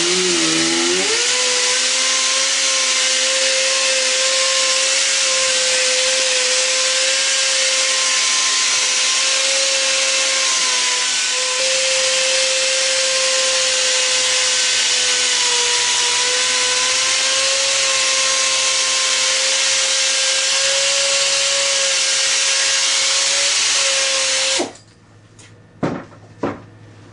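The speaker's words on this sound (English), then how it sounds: "if we continued buffing it to where it was dry, we would potentially be building up heat and could burn the acrylic" A power buffer polishes an acrylic surface kept lightly lubricated with polish, giving a loud, steady high-pitched whine that runs unbroken and close for most of the stretch, then cuts off, leaving a few faint knocks.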